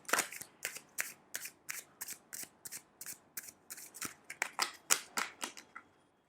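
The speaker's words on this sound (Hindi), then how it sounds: "मैं बेटर हो गई हूँ इन कार्ड्स को शफल करने में अब" A deck of fairy-themed tarot cards is shuffled by hand in a quick, steady run of about twenty crisp riffling bursts. The sound is close and clear with no talking.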